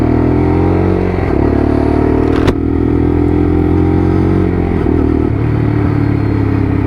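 A Lexmoto LXR SE motorcycle runs loud and close while being ridden, its engine holding a steady droning hum with slight pitch shifts as the throttle changes.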